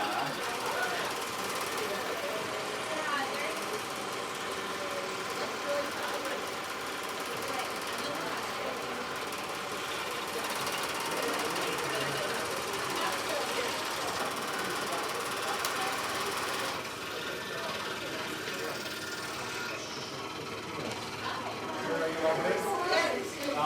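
A scroll saw cuts a wooden puzzle board with a fast, continuous buzzing chatter that holds steady throughout, while people talk in a workshop room over it.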